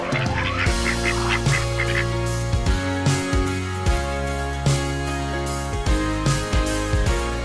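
A flock of ducks quacks continuously, with harsh overlapping honks and calls close at hand and no voices.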